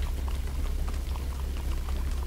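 Water from a fountain splashing in Minecraft Story Mode, a steady close patter and trickle with a low rushing undertone, heard alone.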